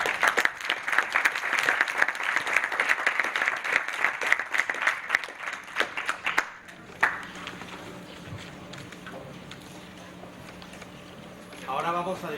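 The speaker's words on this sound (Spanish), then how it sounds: "Démosle un aplauso." Audience applause at a university political debate final, steady dense clapping for about six seconds before it stops abruptly, followed by quieter room noise and a voice speaking.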